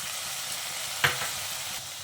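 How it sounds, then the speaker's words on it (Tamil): Ginger garlic paste sizzling and frying in a pan for a village-style chicken curry, a steady close hiss throughout with one brief sharp clink partway. "இதில் நம்ம எடுத்து வச்ச இஞ்சி பூண்டு பேஸ்ட்டை சேர்த்துக்கலாம்"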